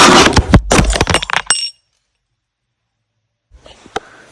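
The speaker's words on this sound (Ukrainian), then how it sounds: "У нас розбилася кружка." A ceramic mug breaks indoors, a burst of sharp clattering crashes and clinks over about a second and a half, then near silence before a few faint scrapes and a small knock.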